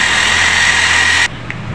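A power sander grinds rust off a Honda Scoopy scooter part with a loud, steady whine that cuts off abruptly, leaving a quieter hum and a brief tap.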